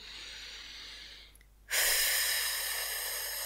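A slow deep breath drawn in through the nose, then a strong rush of air blown out that starts abruptly and continues steadily, close and clear with no talk.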